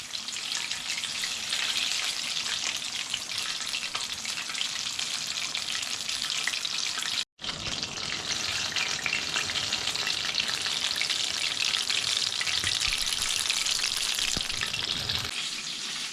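Sole fish bajji fries in oil in an iron pan, a dense continuous sizzle heard close up with a momentary break partway through and faint stirring scrapes.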